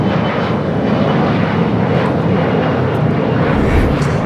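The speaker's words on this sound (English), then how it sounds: "Air Tahiti Niue, the Dreamliner, coming in from Papaete, flight 102, 6-year-old 787-9 Dreamliner" A six-year-old Air Tahiti Nui Boeing 787-9 Dreamliner, flight 102 from Papeete, lands at Los Angeles airport with a loud, close, steady jet roar and no voices.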